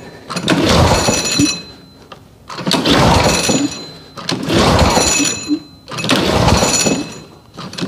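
Four repeated pull-starts on a small lawn care engine with a sticky recoil after five months of storage without stabilizer, each a loud, rasping cord pull lasting about a second and a half, separated by short gaps.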